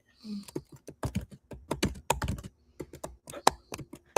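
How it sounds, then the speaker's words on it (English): Rapid, uneven typing on a computer keyboard, many crisp clicking keystrokes in quick bursts, close and fairly quiet. "We can hear your typing."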